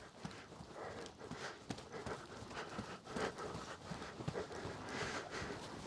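A horse trots during a riding session in Sweden, hooves clip-clopping in an even rhythm with soft breathing, moderately close but fairly quiet under a hiss of background noise.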